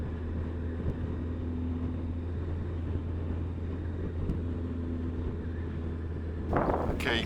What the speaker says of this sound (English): you're going to have to excuse the wind noise